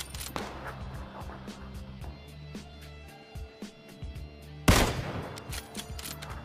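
Kar 98 bolt-action sniper rifle firing in PUBG Mobile, a few spaced single shots with one sharp, loud report near the end over a busy game background.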